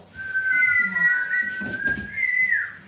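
A person whistles one long, slightly wavering note close by, with faint background murmur underneath.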